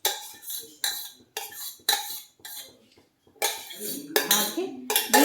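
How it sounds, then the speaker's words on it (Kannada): A spoon clinks and scrapes against a bowl in repeated strokes while dry fruits soaked in orange juice are folded into plum cake batter, a series of close, bright clattering bursts with short pauses between them. "ಇದನ್ನು ಒಂದೇ ಡೈರೆಕ್ಷನ್ನಲ್ಲಿ ಈ ಥರ ಮಿಕ್ಸ್ ಮಾಡ್ಕೊಳ್ಳಿ"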